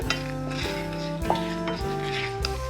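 Spices for a spicy crab curry dry roasting in a pan, with repeated rattling and clinking as they are stirred and tossed, a faint sizzle beneath the close metallic scrapes.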